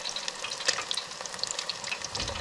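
Small fish fillets from a Lake Erie catch frying in a pan, giving a dense, steady crackling sizzle with scattered sharp pops, close and fairly loud, with no talk.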